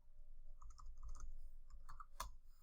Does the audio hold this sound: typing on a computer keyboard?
yes